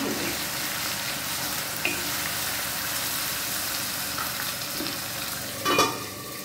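Chicken fries in a pan with ginger, onion and garlic, giving a constant close sizzle. A few scraping stirs break through it, with a louder clatter near the end and no talking.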